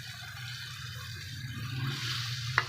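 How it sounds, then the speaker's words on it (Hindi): Water is poured into a bowl holding leftover masala and yogurt to rinse it out, a soft steady trickle over a low hum that swells near the end before a small clink. "अब इसको बोल में से मैं पानी डाल के खंगाल इसके अंदर डालूँगी थोड़ा सा।"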